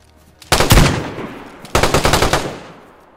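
An AK rifle fires in DayZ, first a short burst, then after a pause a longer rapid burst of about eight close, loud shots with trailing echo.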